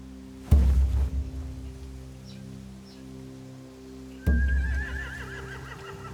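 Horses neighing in the video game The Walking Dead: The Final Season, two loud whinnies separated by a quieter stretch with faint ambient sounds, the second call trailing off in a wavering, fluttering cry.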